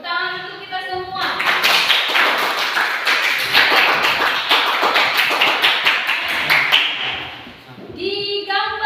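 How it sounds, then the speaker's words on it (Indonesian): Students in a classroom break into loud, sustained applause, dense rapid clapping lasting several seconds before fading, with a speaking voice just before and after. "tepuk tangan untuk kita semua"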